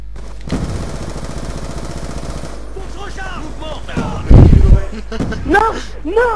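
Rapid automatic fire from a Type 25 rifle in the video game Black Ops 2, a dense continuous burst for about two seconds, then more sporadic shots and game effects with people talking over them.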